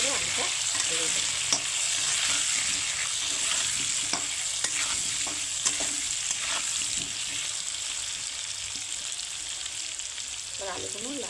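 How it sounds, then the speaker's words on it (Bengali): Potato pieces fry in oil with salt and turmeric powder, a continuous close sizzle with frequent scraping stirs of a spatula against the pan throughout, steady and loud. "এবার আলুগুলো লাল লাল করে ভেজে নেবো।"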